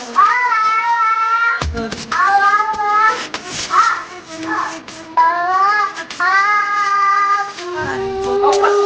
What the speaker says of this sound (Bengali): মিয়াও